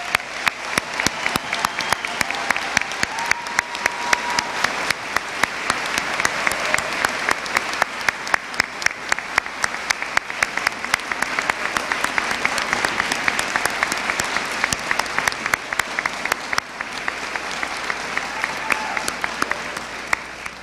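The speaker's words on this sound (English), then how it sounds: "join me in one more round of applause for our distinguished graduates" Large commencement audience at the Bethany College 2023 ceremony applauding the graduates: loud, continuous applause with rapid sharp claps throughout, steady for about twenty seconds.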